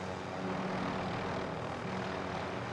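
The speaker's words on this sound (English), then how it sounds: "Down goes a chopper." A helicopter in the Call of Duty: Modern Warfare video game gives a steady, droning rotor and engine roar that holds at an even level throughout the short clip, with no talking.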